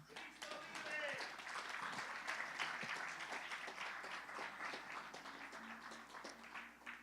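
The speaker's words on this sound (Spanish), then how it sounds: "Un aplauso al Señor" Applause from a congregation during a Spanish-language church service, fairly quiet and continuous, with voices calling out over the clapping.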